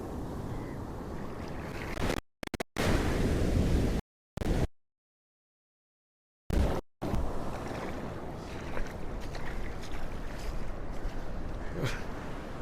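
Steady roar of rough sea surf on a shore at Cuddalore and wind noise close to the microphone, broken by a few abrupt silent gaps.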